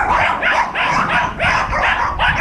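Several dogs bark repeatedly and loudly close by, in a quick steady series of yaps with some whimpering between barks.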